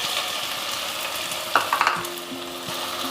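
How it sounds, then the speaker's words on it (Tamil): Vegetables for a double beans veg biryani sauté in a pan with a low, steady sizzle, and a short burst of utensil clinks and scraping comes midway. No voices are heard. "நல்லா வதக்கிக்கலாம் ஒரு 2 நிமிஷம்."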